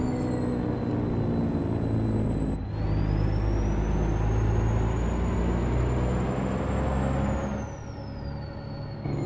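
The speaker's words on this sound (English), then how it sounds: "Good sounding engine brake." A loud, continuous engine drone from a custom Peterbilt truck in American Truck Simulator, with a rising and falling whine as the engine brake holds, cutting out briefly between shifts.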